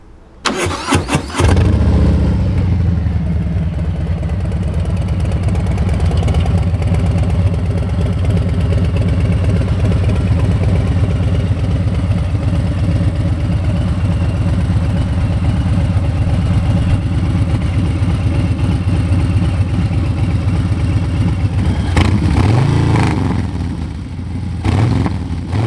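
A 2021 Harley-Davidson Street Bob 114 with a Two Brothers 2-in-1 exhaust fires up and then holds a loud, close, steady throbbing idle for about twenty seconds before shutting off.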